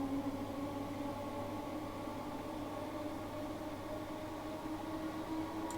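A Class 320 electric train approaches in a Train Simulator run through Glasgow, a steady mechanical hum and rumble holding at moderate level throughout with no voices.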